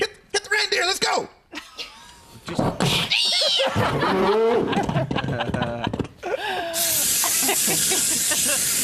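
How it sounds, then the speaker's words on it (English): A long, steady spray hiss rises loud in the final seconds, following a stretch of excited talking, shouting and laughter in a lively Christmas-themed morning show segment. "keep on spraying, Michael."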